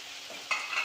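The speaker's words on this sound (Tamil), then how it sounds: "இது வதங்கணுங்க" Broccoli, capsicum and tomato gravy sautéing in a pan, a soft steady sizzle with a brief scrape of stirring near the middle, close and fairly quiet.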